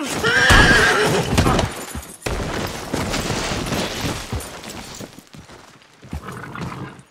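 Horse in the Red Dead Redemption 2 video game whinnies loudly at the start, then hooves clip-clop steadily at a walk with further snorts and whinnies, close and clear without talk.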